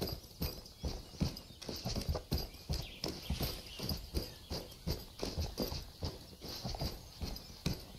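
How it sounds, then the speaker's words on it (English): Rhythmic clip-clopping video game footsteps, like horse hooves on dirt, repeat evenly throughout, each step a dull thud with a softer, higher human scuff layered in. "the deep sound is actually a little bit like it does have a little bit of that weird horse hoof sound to it"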